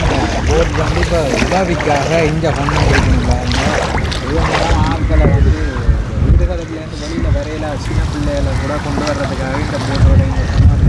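A boat motors through floodwater among submerged houses in Jaffna, a steady broadband engine and water rush with wind buffeting, heard under continuous close talk from people aboard.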